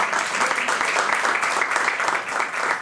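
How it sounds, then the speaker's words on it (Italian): Steady applause from a crowd, dense clapping throughout at an even level with no pauses. "Un applauso"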